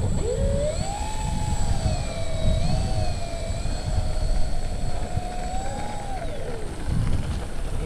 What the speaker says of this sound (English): I checked over the Stearman. Everything looks good. We're gonna take it up for a second flight.